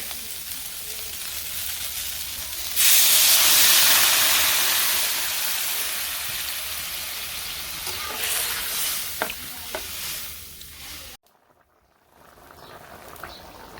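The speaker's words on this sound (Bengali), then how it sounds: "পাশে যে সবজি ভাজা হয়ে গেছে এখন আমি জল দিয়ে নিই" Water poured onto fried vegetables in a hot pan bursts into a loud, close hiss that slowly fades over several seconds, followed by a few light clinks before it cuts off; no talking.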